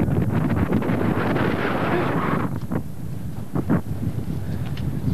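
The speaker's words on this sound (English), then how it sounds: "It's really windy right here too." Strong wind, about 20 miles an hour, buffets the microphone in a steady low roar, with brief voices breaking through partway.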